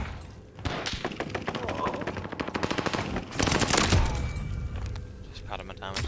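Rapid automatic assault rifle fire in a video game, with long rattling bursts of shots, some stretches dense and overlapping and some of separate cracks, while players talk over the gunfire.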